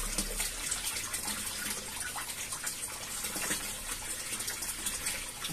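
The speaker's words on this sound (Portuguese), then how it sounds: "andando a descarga de tempos em tempos, automático, renovando a água lá da nossa cama de cultivo" Water drains from an aquaponics grow bed through an automatic siphon discharge, a continuous soft gushing and splashing that stays even and fairly faint throughout.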